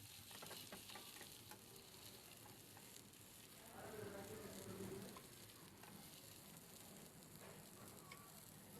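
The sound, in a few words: fish with spices frying in oil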